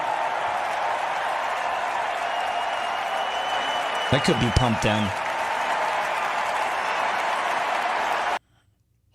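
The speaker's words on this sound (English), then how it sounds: "This is a polite cheering." A stadium crowd of baseball fans cheers and claps in a steady, moderate roar heard from a distance, with a short burst of someone talking partway through and an abrupt cutoff at the end.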